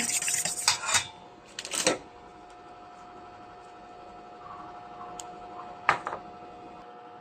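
Eggs, milk and cinnamon are mixed in a bowl for French toast, with quick bursts of metal clinking and scraping against the dish, then a quiet pause and one more short clatter near the end.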